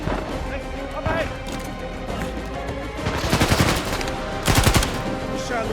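Gunfire in the video game Uncharted 4: bursts of rapid automatic shots over a busy game mix, with louder volleys partway through and near the end, and character voices speaking amid the firing.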